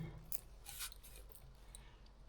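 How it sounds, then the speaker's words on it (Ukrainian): Scissors snip through plastic film while a parcel box from Canada is being unwrapped, giving a few short, close cutting and rustling bursts with no talking. "Треба пленочку піддіть."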